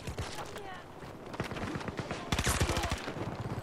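Rapid bursts of automatic gunfire in Battlefield 2042 crackle close and loud, with short pauses between volleys and a heavier burst toward the end.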